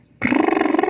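Young kitten voicing a short, harmonically rich meow-like cry that starts abruptly and holds steady for under a second, close and fairly loud.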